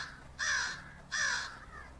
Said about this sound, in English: you hear a crow caw at the cabin